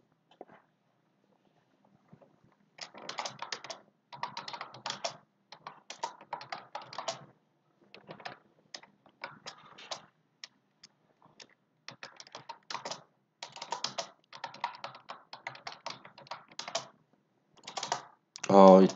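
Someone types on a computer keyboard during a live online class, bursts of quick, light key clicks in irregular runs separated by short pauses, close and fairly soft, with a brief sound at the very end.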